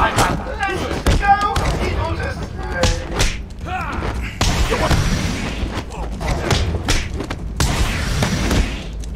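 Repeated heavy thuds and slams of brawling blows landing on thugs in Batman: Arkham Asylum, mixed with grunts, game voices and music in a dense, busy fight.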